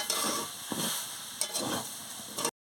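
Mixed vegetables fry in a pan with a steady, close sizzle, broken by a few stirring scrapes before it cuts off abruptly near the end.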